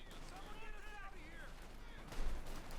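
Heavy .50 caliber machine gun team firing in Company of Heroes 2, a steady rattle of gunfire with battle noise and a louder blast near the end, heard under a caster's commentary.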